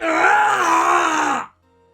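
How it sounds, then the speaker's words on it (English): A long, loud strained scream from a man in the Phoenix Wright Ace Attorney video game, a single sustained anguished cry that holds steady for over a second, then cuts off into near silence. "It's that scream I heard in the elevator."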